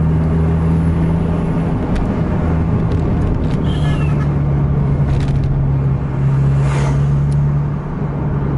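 Dense road traffic full of trucks on a straight stretch near Sungai Raya, heard as a steady loud rumble of engines and tyres with a low droning hum and vehicles passing close by.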